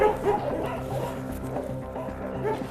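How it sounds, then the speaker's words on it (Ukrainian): Several shelter dogs at a countryside animal shelter bark, yip and whimper in a dense, continuous chorus, fairly close and steady throughout with no clear talk. "Ось тут у притулку для тварин за містом і живуть собаки."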